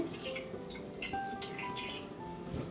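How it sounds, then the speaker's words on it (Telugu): Cooking oil is poured into a pan while making eggplant biryani, giving a soft, close trickling and dripping of liquid with no voices. "నూనె వేస్తున్నాను చూడండి"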